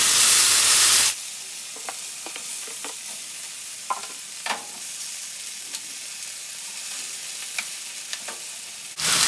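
Beef pieces spread apart in a hot pan fry with a steady, close crackling sizzle, with scattered pops and stirring clicks after a loud hissing burst at the start.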